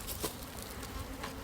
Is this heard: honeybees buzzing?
yes